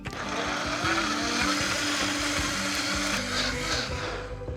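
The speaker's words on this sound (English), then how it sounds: "Puree this until smooth." A blender purees avocado salsa with salt and white onion, a loud, steady motor roar with churning, close and continuous throughout.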